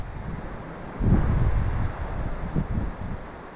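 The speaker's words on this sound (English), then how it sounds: "It's getting a bit too windy." Wind buffets the microphone at a waterside fishing spot, a steady low rumble that swells into heavier gusts in the second half, with no talking.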